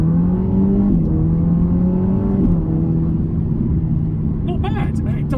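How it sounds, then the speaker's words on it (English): A Ferrari Portofino M sports car engine drones loudly and steadily with pitch shifting through gears, up close, ending with a brief higher whine. "We'll start with that engine note."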